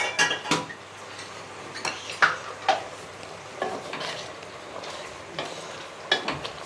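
Metal spoon scraping and clanking around a pressure cooker while salted country chicken for biryani is stirred, a series of sharp irregular scrapes and knocks over a soft sizzle, close and alone.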